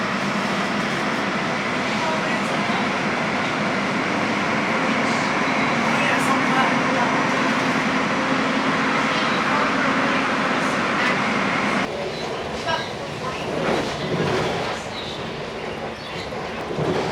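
A train runs steadily on the rails with a loud, continuous rumble and rattle that shifts and eases after about twelve seconds, while a faint voice is heard beneath it.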